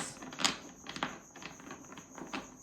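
A deck of tarot cards is shuffled by hand, giving quiet, uneven bursts of papery riffling and soft taps close to the microphone.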